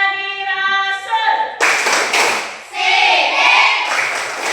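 Schoolchildren in a classroom perform a rhythmic clapping chant about the obligatory attributes of the Prophet, with sharp group claps punctuating voices chanting together, close and loud.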